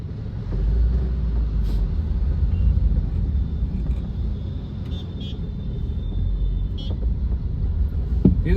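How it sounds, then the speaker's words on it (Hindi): A CNG-powered car runs in first and then second gear, heard from inside as a steady, moderately loud engine and road rumble with a few faint knocks and clicks. "देखिए आप फर्स्ट गियर सेकंड गियर पे कार चल रही है।"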